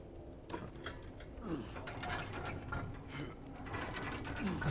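Ammo crafting in the survival horror game Resident Evil Requiem makes a run of ratcheting, clicking mechanical sounds, like gears and a pawl turning in irregular bursts. The sound is fairly faint and comes without voices.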